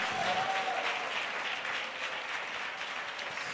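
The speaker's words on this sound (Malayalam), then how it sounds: "ഒന്ന് നല്ല പോലെ ഒന്ന് കൈയടിച്ച്" Applause from a church congregation at a Pentecostal Christian gathering, a dense, steady wash of many hands clapping together that holds for several seconds with no voices rising above it.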